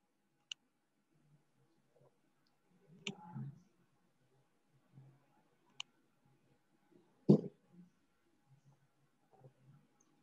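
A computer mouse clicks a few times, sharp isolated taps spaced seconds apart, faint against quiet room sound with occasional soft handling noises and a low voice during an online teaching session.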